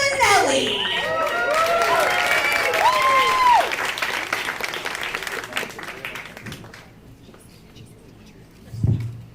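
Audience at a Los Angeles comedy show applauds and cheers loudly as a comedian is called to the stage, with whoops and shouts over sustained clapping that gradually fades, then a brief burst near the end.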